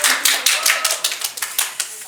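Brief applause from a small audience greeting advice-seekers at a Korean political youth talk event, a quick run of light, close claps that fades out after about two seconds.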